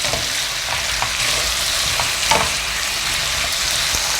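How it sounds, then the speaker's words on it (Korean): Sliced onion and green onion stir-fried in perilla oil with broth for a braised squash dish, giving a close, steady frying hiss with soft scrapes and stirring taps of a utensil in the pan. "양파하고 대파를 넣을 거예요. 요것도 같이 잘 볶아주세요."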